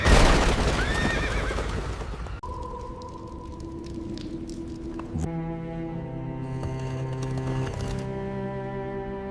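Horses whinny loudly and close by beside a waiting carriage, a long neigh followed by a second, higher-pitched call, with a few scattered hoof clops and knocks between them.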